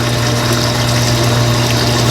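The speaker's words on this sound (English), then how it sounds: "What I gotta do is reach up here and push this over. Look at that. Here comes the water." Water gushes loudly and continuously from the opened drain of a clogged washing machine into a bucket, a dense, close, steady rush with a low pumping hum beneath.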